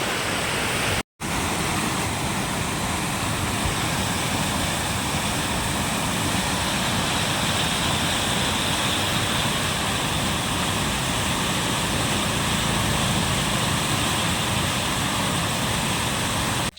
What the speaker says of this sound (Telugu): మస్తు అంటే మస్తు స్పీడ్తో పోతుంది వరద చూస్తేనే భయం అవుతుంది అంత ఘోరంగా పోతుంది అంత ఫుల్ సౌండ్ వస్తుంది వాటర్ సౌండ్